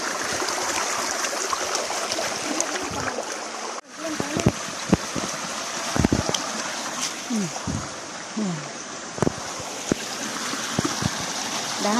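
A cold forest stream flows steadily in a wooded spot, its continuous close rushing broken by small splashes and knocks, with a person talking over the water.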